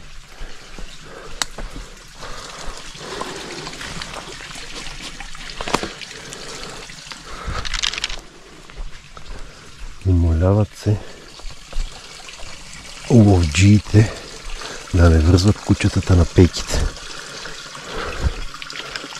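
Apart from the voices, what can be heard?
water running from a public drinking fountain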